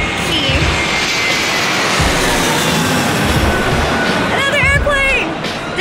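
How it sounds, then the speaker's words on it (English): Airplane passing overhead outdoors, a steady broad roar that holds loud through the whole stretch, with some chirping near the end and low rumble underneath. "Another airplane!"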